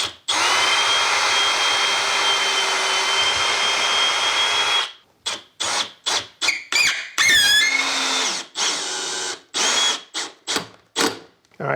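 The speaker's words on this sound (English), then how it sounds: "I pre-drill first to make sure that I hit the stud" A power drill pre-drills into a wall stud, whirring steadily for several seconds, then sounding in short bursts and stopping, with a few squeaks as the bit bites in. The drilling is close and loud.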